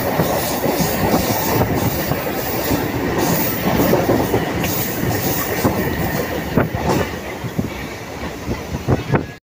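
A Konkan Railway DEMU train runs through a tunnel near Roha, its loud, steady rumble and rattling wheel clatter filling the clip with dense, enclosed noise and faint squeals.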